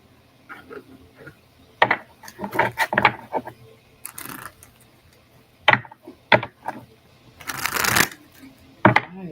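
Playing cards are shuffled and riffled in several short bursts, close and crisp, with a louder rapid flutter near the end, during a live card reading.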